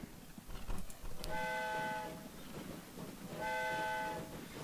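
A train departs a station in the railway game Train Fever, giving two distinct horn blasts over a low rolling rumble of wheels and engine.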